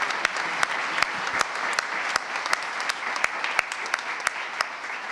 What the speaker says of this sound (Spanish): Así que les pido un aplauso para todos ellos.